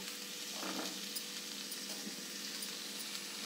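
Chopped beans, capsicum and potato sizzle in a hot pan, a soft, steady frying hiss, faint and even, with a small clatter at the end.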